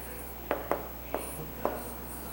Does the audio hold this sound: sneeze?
no